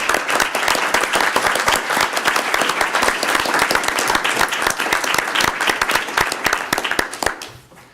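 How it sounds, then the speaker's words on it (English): Audience applause at a water-planning steering committee meeting in Arizona, a dense, steady clatter of many hands that holds for several seconds and then tapers off at the end. "we owe Tom and Ted and their team a round of applause for all the work that they've done"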